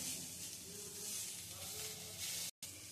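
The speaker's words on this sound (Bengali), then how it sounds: "মিনিট তিন চারেক ধরে বিটটা একটু ভেজে নিয়েছি ঘিয়ে, একদম স্টিমটা লোতে রেখে ভাজছি" Beetroot frying in ghee over low heat gives a steady, soft broadband sizzle and hiss, continuous and fairly quiet, with a brief dropout near the end and no talking.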